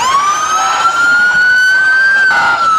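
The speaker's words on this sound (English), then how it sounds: "and lots of sirens" Emergency vehicle sirens wail steadily at the Perryton Wheatheart Parade in Texas, one loud rising and falling tone with harmonics above a street crowd rumble, close and continuous.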